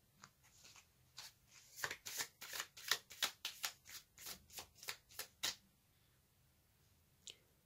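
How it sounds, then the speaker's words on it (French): Tarot cards shuffled by hand, a quick series of about a dozen crisp riffling bursts close by, then near silence with one final soft card snap. "Je vais tirer une carte supplémentaire pour compléter cette énergie."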